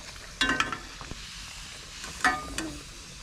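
A ragi flour poori frying in hot oil gives soft sizzling bursts and stirring sounds in two short flurries, with quiet gaps between them.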